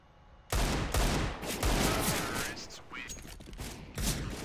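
Rapid gunfire in Counter-Strike: Global Offensive during a competitive match, loud dense bursts starting abruptly and continuing for several seconds, mixed with voices talking over the shots.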